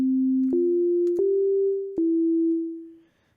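A smooth, sustained synth sine wave tone holds steady, then steps to slightly different notes with small clicks at each change before fading out.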